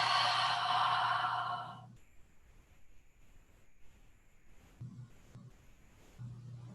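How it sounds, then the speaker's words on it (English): A deep inhale and a loud, breathy exhale during a yoga flow, one strong exhale up front followed by quieter breathing and soft movement sounds, no talking. "Deep inhale, loud exhale."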